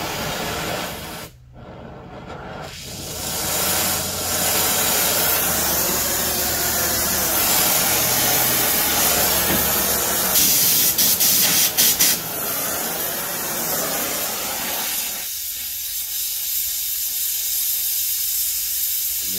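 A small-tip heating torch hisses steadily during heat straightening of metal in a shop, a loud, close, continuous roar that barely changes for almost twenty seconds.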